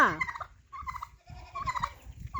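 Poultry call loudly close by in a few rapid, warbling bursts separated by short pauses, with a rough, gobbling quality.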